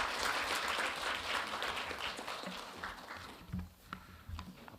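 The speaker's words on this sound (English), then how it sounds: "Please welcome our moderator, Professor Min-Jae, with a big round of applause." An audience at a governance forum applauds to welcome a moderator, a round of clapping that thins and fades toward the end, leaving scattered claps and faint room noise.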